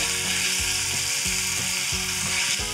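Whole spices sizzle in hot oil in a pan: black pepper, cloves, cardamom, star anise and grated ginger. The frying hiss is steady and close, with repeated scraping or clicking strokes layered over it.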